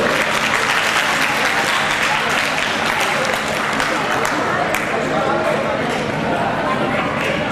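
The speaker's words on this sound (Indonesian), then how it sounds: "Tepuk tangan lagi untuk Grand Everything Lionel." An audience at an event breaks into continuous, loud applause, a dense wash of many hands clapping up close, with voices mingled faintly underneath.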